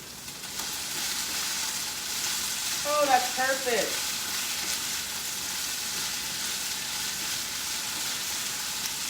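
Potatoes fry in a pan for a Tex Mex style breakfast, a steady close sizzling hiss throughout, with a brief spoken remark over it partway through.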